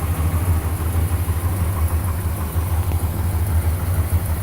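A 1968 Dodge Monaco 500 with a 383 big block Mopar V8 idles loudly and steadily up close, its deep, lumpy rumble pulsing evenly throughout with no voices.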